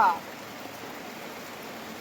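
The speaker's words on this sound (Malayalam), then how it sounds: "ഇവിടെ നല്ല മഴയാണ്" Heavy rain falls with a soft, even hiss, steady and fairly faint, following a brief voice at the very start.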